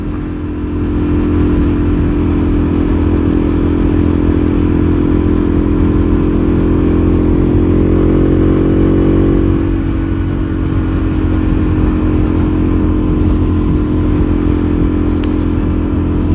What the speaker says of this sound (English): Ah, the big boys out on the big bikes.